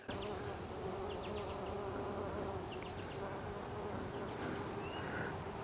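Bees buzz among early June garden flowers such as peonies, lupines and deutzia, making a continuous soft drone with overlapping insect hums in the background.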